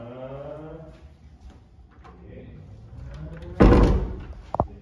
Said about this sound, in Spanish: hay que cerrar la puerta.